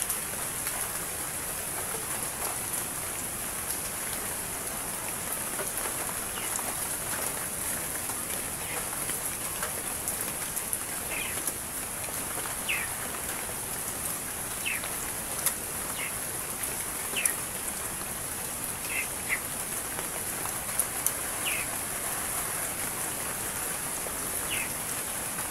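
Steady rain falling over several days, a constant dense hiss of drops on surfaces with faint bird calls chirping now and then in the background.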